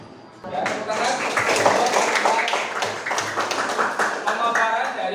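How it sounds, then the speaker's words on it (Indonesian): A classroom of students clapping their hands together, a dense burst of many overlapping claps that starts abruptly and carries on steadily for several seconds, close and fairly loud. "Ya, tepuk tangan."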